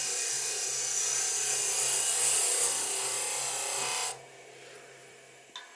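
Turning tool cutting into a Brazil nut husk spinning on a lathe gives a steady, loud broadband rasping hiss for about four seconds, then cuts off abruptly to a quiet hum with a couple of faint taps.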